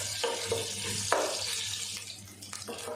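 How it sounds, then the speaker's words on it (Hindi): Garlic and crushed ginger sauté in hot oil in a pan for sarson ka saag, giving a soft continuous sizzle with a few faint clicks and stirring scrapes, and no talking. "एक से 2 मिनट के लिए हमने अदरक लहसुन को सौते कर लिया"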